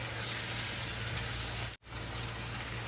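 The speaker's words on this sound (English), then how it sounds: "Okay, so we're still frying the stew" Stew with tomato sizzling and frying steadily in a pot while jollof rice is being made, a continuous close crackle with a brief dropout partway through.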